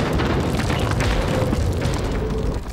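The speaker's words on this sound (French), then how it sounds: "a dû absorber l'explosion." Film explosion, a loud dense boom that roars continuously and fills the stretch from start to finish, heavy in the low end, and fades slightly only at the very end.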